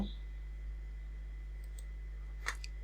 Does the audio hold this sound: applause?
no